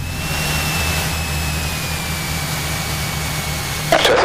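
A Cessna 172's piston engine drones steadily and loudly at run-up power, a dense continuous roar with a faint whine, ending in a brief abrupt burst of noise.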